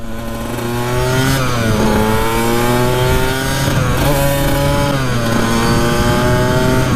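A two-stroke-style dirt bike engine runs loud and steady for the whole stretch, its pitch rising and falling through several revs with a lean, buzzy tone, out in an icy setting at speed.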